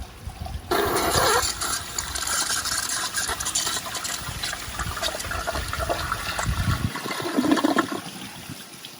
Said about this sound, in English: So let's turn the water on just a tiny bit for a really weak flush.